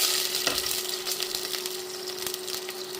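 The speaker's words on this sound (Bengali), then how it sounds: "টমেটো সসগুলো আমি নেড়ে চেড়ে কষিয়ে নেব" Tomato sauce being stirred and fried in a pan for noodles, giving a soft, steady sizzle with a few light scrapes and taps of the utensil, close and fairly quiet, no voices.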